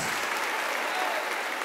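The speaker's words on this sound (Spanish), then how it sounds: "Un fuerte aplauso. Fuerte aplauso para este lindo dúo." An audience at a Christian music tribute to a string duo gives dense, steady applause, with many hands clapping evenly throughout.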